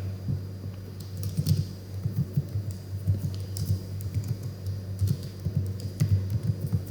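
Computer keyboard typing, irregular soft key taps scattered throughout at close range over a constant low hum, with a few brief quicker runs.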